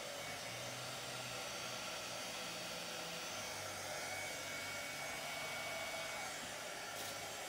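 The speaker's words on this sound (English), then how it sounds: "is the heat gun that I use right here. I put it on high." A heat gun runs on its high setting while epoxy is worked on a TV tray table, giving a steady, fairly faint whooshing blower hiss with a low motor hum, unbroken throughout.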